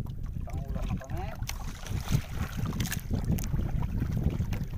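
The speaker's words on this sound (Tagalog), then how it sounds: "Malakas pa yung hangin." Strong wind buffets a small fishing boat off Sakol Island near Zamboanga City, a loud, continuous rushing roar with gusty microphone noise and water sloshing underneath, and voices briefly heard.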